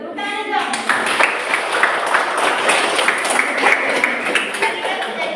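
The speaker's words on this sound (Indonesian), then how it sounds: "Tepuk tangan dong." A church youth group audience applauds, a steady dense patter of many hands clapping close by for several seconds, with scattered voices mixed in.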